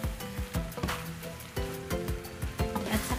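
Cabbage is stir-fried in a hot pan for pancit canton: a steady sizzle runs throughout, broken by repeated scraping and clanking strokes of a spatula against the metal.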